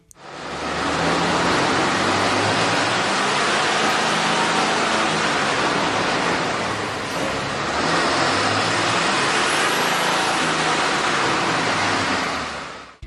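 Car engine running on a dynamometer with a K&N 71-1562 performance cold air intake fitted, a loud steady broadband roar and rush held throughout, with a brief dip midway, no voices.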